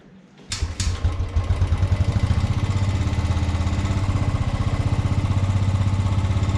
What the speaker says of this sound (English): So that's why I'm not going to button start the bike, I'm going to kick start the bike.